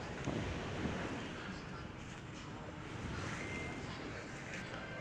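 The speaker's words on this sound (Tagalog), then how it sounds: "Lakas ng alon ngayon." Strong ocean waves break at a beach resort, a broad continuous roar of surf mixed with wind buffeting the microphone, steady and fairly loud throughout.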